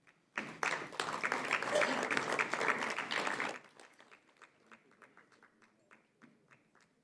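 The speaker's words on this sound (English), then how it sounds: "Give a hand or applause." Audience at an international Asian urbanization conference breaks into a burst of applause lasting about three seconds, then tapers to scattered individual claps in a large hall.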